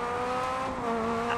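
Rally car in Dirt Rally's rallycross mode holding full throttle through a drift, engine droning steadily at high revs with a continuous harmonic whine and no pauses.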